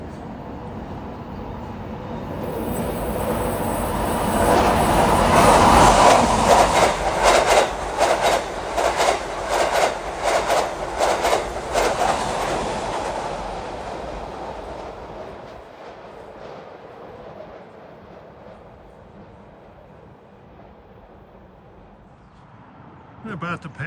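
A Long Island Rail Road train near Copiague on a Babylon to Penn Station run swells to a loud roar with rhythmic clickety-clack of wheels over rail joints, then recedes into a low fading rumble.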